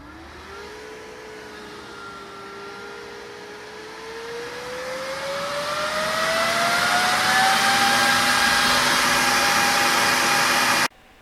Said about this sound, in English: It's great having RGB fans in your PC, but do your fans sound like this?